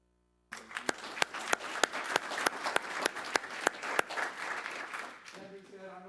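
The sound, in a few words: audience applause for the candidates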